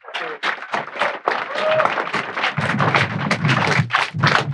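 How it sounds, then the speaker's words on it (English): Audience applauds a speaker at a panel talk on phosphorus and lakes turning green, a dense, steady wash of clapping that fills the room for several seconds with a brief voice at the start. "So I'll give Dan one more round of applause."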